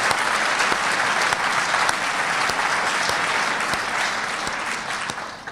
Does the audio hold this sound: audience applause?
yes